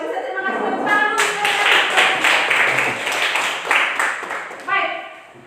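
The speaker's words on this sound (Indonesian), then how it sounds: "Kalau bisa terima kasih tepuk tangan dulu." Students in a classroom clap their hands together in a lively burst of applause lasting about three seconds, with a voice speaking just before and just after the clapping.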